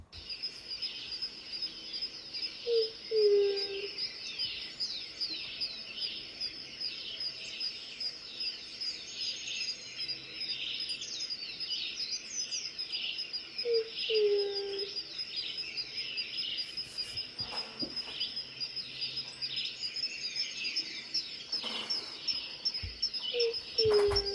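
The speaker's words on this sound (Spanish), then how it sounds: "esta es la paloma montaraz común, una especie muy frecuente" A picazuro pigeon gives low cooing calls in a native forest patch, a few soft phrases spaced several seconds apart, under a steady high chorus of insects and chirping birds.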